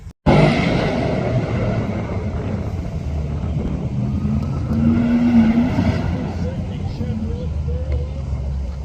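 Trans Am race cars at the Portland International Raceway SVRA Speedtour, engines roaring loud and sustained at trackside as they pass, with pitch shifts, under an announcer's voice.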